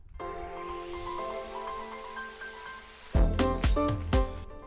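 A rising synth riser effect with reverb, made in Ableton Live 12, sweeps steadily upward for about three seconds before breaking into a few loud, punchy hits whose reverb tails ring out.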